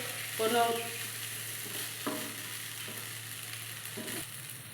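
Flattened rice (chira) being lightly fried and stirred in a pan for vegetarian pulao, with a steady low sizzle and a few scraping stirs of the spatula, close and moderately quiet.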